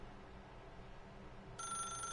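A telephone starts ringing in The Stanley Parable, a bright electronic trill that comes in abruptly near the end over a steady low ambient hum.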